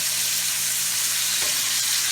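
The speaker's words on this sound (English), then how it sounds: "Look at that sizzle." Steak frying in butter in a pan, giving a loud, continuous close-up sizzle and crackle with no talk.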